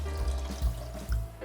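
Water pours into a soup pot from a measuring cup, three cups for a home-cooked soup, a low, steady liquid rush with a few brief louder gushes, close by and alone.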